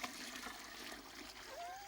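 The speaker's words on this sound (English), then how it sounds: "Sound of rushing water." Water rushing and splashing in a steady, moderate stream, heard close, with a voice speaking briefly over it.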